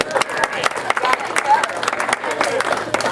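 Audience at an adult comedy show applauds in scattered bursts of claps under and between ongoing talk, the clapping moderately loud and uneven.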